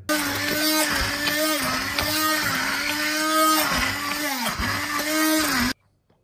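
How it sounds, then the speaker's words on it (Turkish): A kitchen blender churns frozen homemade caramel ice cream mixture with a loud, pulsing motor whir that cycles steadily, then cuts off abruptly near the end. "Şimdi bunu blenderdan geçiriyorum."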